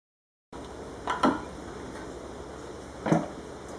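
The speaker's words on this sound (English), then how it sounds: "you'll grab a oil filter wrench, these little pliers here, and you'll go ahead and remove the oil filter" A few faint metallic clanks and a scrape as oil filter wrench pliers grip and twist off the oil filter on a 2006 Chevrolet Tahoe, set against a quiet steady background hum.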